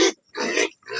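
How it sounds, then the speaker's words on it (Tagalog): Farm pigs grunt at feeding time, three short, loud, close grunts in quick succession with brief gaps between them. "Ito ang ating mga baboy."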